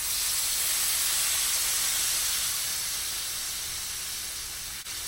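Liquid poured into a hot pan with shrimp and scallops gives off a loud, continuous steaming hiss up close that fades slightly near the end.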